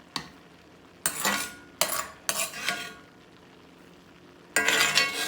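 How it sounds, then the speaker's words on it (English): Chili with tomato juice gets stirred in a pot, several distinct scraping, clinking strokes of a spoon against the metal, each a second or so long, separated by quiet gaps, near and clear without talk. "We're going to mix this recipe up"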